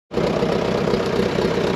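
A tractor engine idles steadily at close range while towing another tractor, a dense, even rumble with a fast, regular low pulse that starts abruptly and holds for a couple of seconds.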